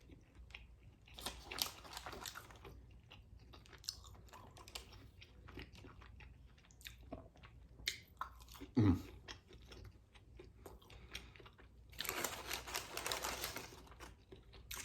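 Crunchy Wingstop fries being chewed close up, with irregular bursts of crisp crunching, one sharp loud bite near the middle and a denser run of chewing toward the end, over a faint room background.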